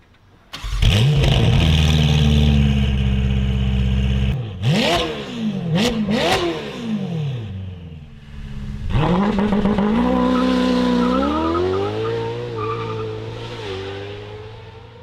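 A loud, modified Novitec supercar engine revs hard in repeated sharp bursts, rising and falling, then settles into a sustained roar that slowly fades; no talking.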